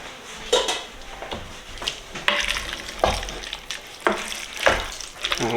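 A spoon stirs smoked baked beans with ketchup and barbecue sauce in a pot, giving repeated wet scraping and squelching strokes at a steady uneven rhythm, close and moderately loud.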